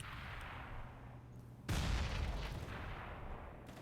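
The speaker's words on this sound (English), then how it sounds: "Once again, grenades proving to be devastating" A sudden loud blast from a grenade in Counter-Strike on the Train map bursts out after a quiet stretch, then rumbles and fades over the remaining seconds.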